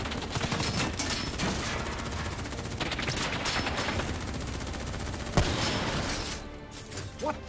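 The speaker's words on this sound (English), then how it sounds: "Who's shooting?" Sustained gunfire rattles through a firefight in the shooter Call of Duty: Black Ops III, dense overlapping bursts of automatic fire with scattered louder single shots, continuous and close.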